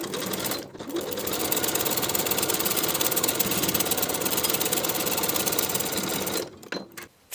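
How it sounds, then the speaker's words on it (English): A sewing machine stitching the neckline seam of a cardigan, a loud, close, steady rapid mechanical whir running for several seconds after a brief pause, then slowing and stopping with a few clicks. "Sew as pinned with a 3/8 inch seam allowance."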